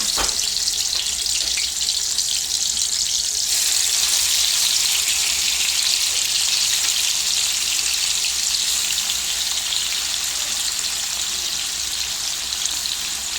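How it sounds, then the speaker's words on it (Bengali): Prawns frying lightly in oil in a pan: a loud, steady, hissing sizzle that holds without a break, with no talk over it. "চিংড়ি মাছ ভুনা করার আগে এগুলো একটু ফ্রাই করে নিই"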